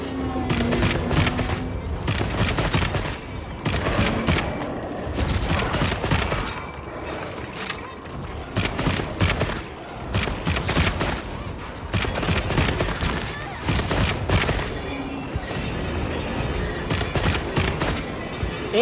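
Rapid bursts of automatic gunfire in the video game Monster Hunter Wilds crackle almost continuously, with a few heavier booms mixed in, loud and close throughout.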